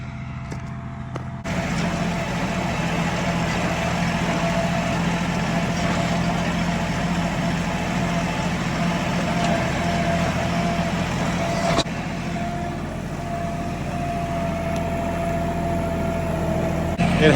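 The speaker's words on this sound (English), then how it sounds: "Other than that tractor running, this is like just so peaceful." A farm tractor engine idles steadily at a moderate distance, a continuous low drone that starts abruptly and carries on unchanged, with no talking over it.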